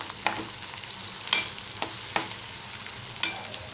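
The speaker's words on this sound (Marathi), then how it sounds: "आता हे छान तेलात भाजू देणार आहोत दोन मिनटं" Onion and green chilli frying in oil make a continuous sizzle, with a few sharp spoon taps and stirs against the pan, close and with no speech.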